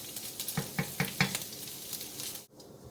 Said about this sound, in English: So here we have the garlic and ginger sizzling away in the pan.